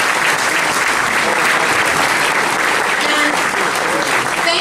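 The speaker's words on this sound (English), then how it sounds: "so please give another round of applause to Rex, his team, and the board of directors" A crowd at an awards event applauds loudly and steadily, dense continuous clapping filling the room for several seconds without pause.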